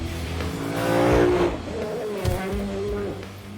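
A Lexus GS F's naturally aspirated 5-litre V8 engine revs up, rising to a loud peak then settling, with a brief tire chirp amid the roar.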